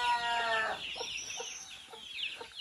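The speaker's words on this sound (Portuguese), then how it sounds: "As galinhas aí, ó." Chickens cluck and call near a backyard clothesline, a cluster of close, overlapping clucks and short calls over faint outdoor background noise.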